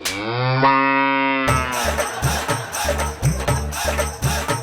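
A buffalo gives a long, deep, drawn-out moo up close, followed by a busy stretch of rhythmic thumping and clattering.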